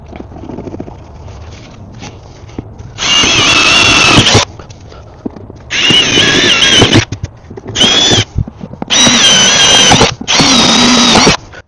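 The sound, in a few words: drill pre-drilling holes with cobalt bit in stainless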